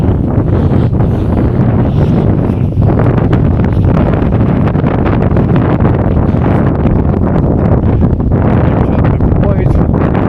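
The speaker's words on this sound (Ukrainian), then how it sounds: "Вітер, правда, сьогодні легкий бриз" Steady, loud wind buffets the microphone beside the Hirskyi Tikych river in Zvenyhorodka, Ukraine, a constant rushing roar with no pauses.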